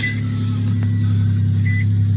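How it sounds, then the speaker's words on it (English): A car idles steadily in snowy winter cold, with a low, even engine hum close by and a faint electronic beep, and no talking over it. "I'm so thankful that this car just started."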